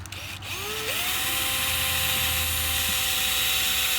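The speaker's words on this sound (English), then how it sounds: "Center up my drill." A power drill whines steadily while drilling into a dresser drawer, rising in pitch as it spins up, then holding a loud continuous drilling drone close by.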